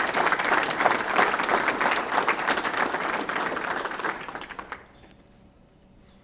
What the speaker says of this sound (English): Can we go ahead and give him a round of applause?